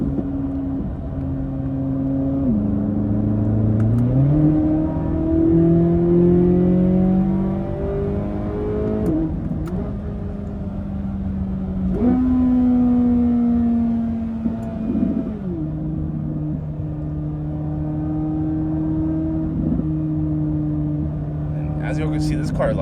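Corvette C8 Z06 engine in track mode heard from inside during a late night drive, climbing through repeated revving pulls with sharp shifts between them, loud and close, while a voice talks over it.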